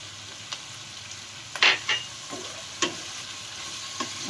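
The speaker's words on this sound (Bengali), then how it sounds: "দু চারটে রসুনের কোয়া ছিল মা সেটা অ্যাড করে দিলেন আর কি এইভাবে একটু সতে করে নিতে হবে ভেজিটেবলসগুলো" Mixed vegetables with a few garlic cloves sizzle in a pan as they are sautéed for penne pasta, with a steady soft hiss broken by several sharp scrapes and clinks of stirring.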